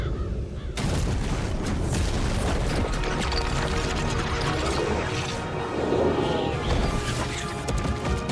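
A sudden loud blast in a video game bursts in after a quiet moment, followed by sustained crashing, rumbling debris and clattering effects.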